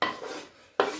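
Chopped cabbage stalks are tipped into a frying pan, close up: two short clattering, scraping bursts with a quieter rustle between them.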